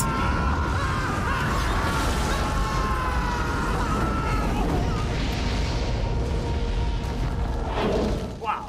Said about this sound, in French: c'est de la bonne explosion ça